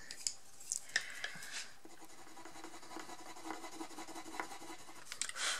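A colored pencil scribbles on a small piece of black paper, with soft, faint, continuous scratching and rubbing strokes close by, broken by a few light taps.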